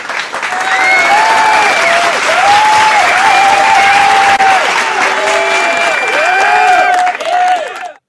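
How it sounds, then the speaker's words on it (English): Dense, steady applause from a crowd fills the whole stretch, loud and continuous, with sustained tonal lines running beneath it before the clapping tapers off at the end. "Let me actually give you a clap to be fair"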